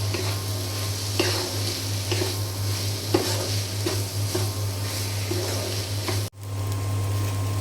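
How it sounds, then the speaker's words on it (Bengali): Boiled noodles stir-fry in a pan with noodle masala, making a close sizzle cut by regular scraping strokes about once a second over a low steady hum, with a sudden brief dropout near the end. "এখন আমি দিয়ে দেব সিদ্ধ করে রাখা নুডলস।"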